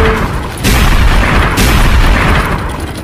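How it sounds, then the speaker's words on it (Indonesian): Car exploding in the video game Sakura School Simulator, a loud booming blast followed by a second burst and a rumbling roar that slowly decays. "Oh, mobilnya meledak guys."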